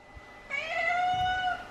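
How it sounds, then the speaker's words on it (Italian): A pet cat gives one drawn-out, fairly clear meow lasting about a second, close by in a quiet home. "ciao, gattino viziato"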